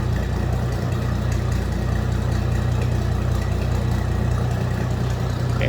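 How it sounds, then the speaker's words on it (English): 1948 Diamond T Model 201 pickup with a Hercules inline six engine and four-speed manual, idling steadily with an even low rumble and no talk. "I guess what you'd expect an inline six to sound like"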